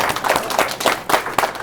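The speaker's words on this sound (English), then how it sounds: "Give yourself a round of applause." Students in a classroom cooking demonstration clapping together in a brief round of applause, a steady dense patter of many hands at close range with no talking.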